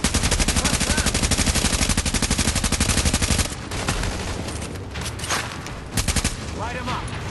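Rapid automatic turret machine-gun fire in The Division, a loud sustained burst lasting a few seconds, then scattered shots and another short burst under a quieter game backdrop.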